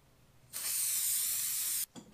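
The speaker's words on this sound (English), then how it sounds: "let's get the spraying." A single continuous burst of spray hisses onto a kayak floor during soundproofing, lasting just over a second and close by, followed by a brief softer puff.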